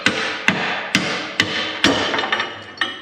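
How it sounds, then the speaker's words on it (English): Hammer blows ringing on metal farm equipment near a Massey Ferguson tractor, about eight sharp, loud strikes at a steady, slightly quickening pace, each with a short metallic ring, and no talk. "I love the hammer."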